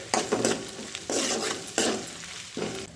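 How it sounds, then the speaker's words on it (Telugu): Ginger is stirred in a hot pan for cucumber bombil curry, with a spoon scraping the pan in repeated strokes over a soft frying sizzle, close up and without talk. "అల్లం పచ్చివాసన పోయే వరకు ఒక్క నిమిషం అలా తిప్పుకుంటండి"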